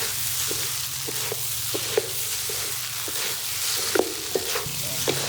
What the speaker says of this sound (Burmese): ဒီကောင်းချင်းတွေကိုကျွန်တော်တို့ထည့်ပြီးတော့ကြော်တဲ့သဘောပဲပေါ့နော်